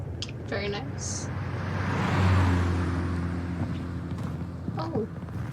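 Cars pass by in the video game Everlasting Summer on a frosty winter evening, a soft traffic whoosh swelling and fading at moderate distance, with someone talking briefly over it.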